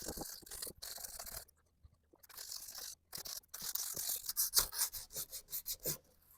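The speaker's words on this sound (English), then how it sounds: "I am not going to sand this a whole lot" Bone saddle piece from a Takamine G332 acoustic guitar rubbed against sandpaper, making soft, quiet rasping strokes that speed into a steady back-and-forth rhythm with brief pauses between passes.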